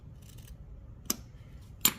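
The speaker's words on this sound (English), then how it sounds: "I'm cutting the back seam just to the stitching" Scissors cut along the back seam of a sewing project, up to the stitching. Two faint, sharp snips stand apart in a quiet room, with no talking.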